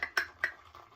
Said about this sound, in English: shaving brushes because they bang and make this